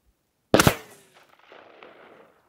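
A single rifle shot fired without a scope at a target 200 metres away: one loud, sharp crack followed by a fading rumble and echo that trails off over about two seconds, with no voices.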